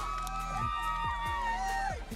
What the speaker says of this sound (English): Big cheer from the Longhorns.